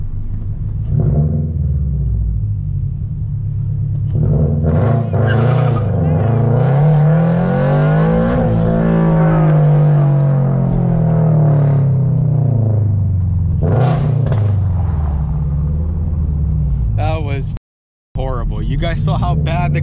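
Straight-piped Toyota GR86 engine revving up and down in a downtown street, loud rising and falling rasp with a long sweep in the middle, people talking over it, brief cut near the end.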